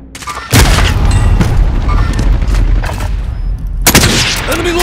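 Gunfire and explosions in Call of Duty Warzone in Verdansk, a loud barrage of booming blasts and rapid shots starting abruptly, with another burst near the end.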